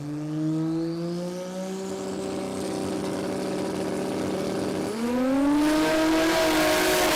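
A drag car launches and accelerates hard down the quarter mile at a raceway, its engine note climbing steadily with a loud harmonic roar that dips and surges again on a gear change near the end.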